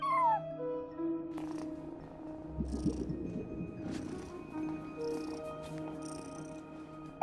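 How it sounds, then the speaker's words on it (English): A cat at a front desk in Genshin Impact meows and purrs softly over a quiet game soundtrack, with a few brief vocal sounds and a low rumbling stretch midway. "No one except for a cat watching over the front desk."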